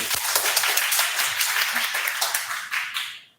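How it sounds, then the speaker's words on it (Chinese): An audience claps to welcome a teacher at an in-person talk for elders, a steady, dense burst of applause from a roomful of people that fades out at the end, close and fairly loud. "我们现在鼓掌"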